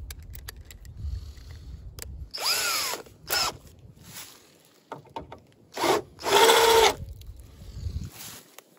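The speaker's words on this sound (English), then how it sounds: "And countersink it." A drill countersinks a hole in a hardened steel file being made into a flint-and-steel striker, giving a few short loud bursts of grinding and whining between quieter shop noise and low rumble.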